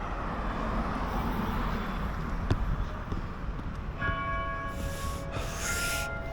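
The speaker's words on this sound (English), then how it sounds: "its bells are now going off because it is, well, exactly 5 o'clock" A church bell starts ringing at five o'clock on a street, its strokes faint and distant beneath steady outdoor traffic hum, entering after a few seconds.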